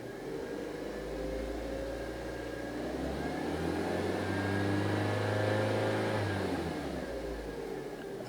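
A car engine idling near 900 rpm is revved while hooked up to an automotive diagnostic scanner, its hum swelling up, holding for several seconds, then easing back down, heard alone at moderate distance.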